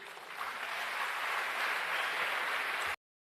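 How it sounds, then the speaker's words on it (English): An audience at a presidential summit on gender-based violence and femicide breaks into applause, a dense, steady wash of clapping that swells quickly and then cuts off abruptly. "Give her a round of applause again for bringing evidence"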